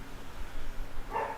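A single short dog bark sounds near the end, fairly faint against a low background hum.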